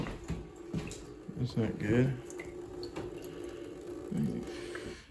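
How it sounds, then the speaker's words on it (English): A tap left running in the dining room area of a hoarder's house being cleared of junk, a steady stream of water splashing in the background while someone speaks briefly over it. "They left some water running."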